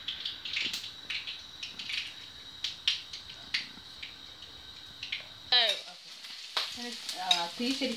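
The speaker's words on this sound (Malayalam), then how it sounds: "ഓക്കെ, നമുക്ക് കടുക് പൊട്ടാൻ സമയം കൊടുക്കാം." Mustard seeds popping in hot sesame oil while apple pickle is made: a scatter of sharp, close crackles and pops over a soft sizzle, with a voice speaking near the end.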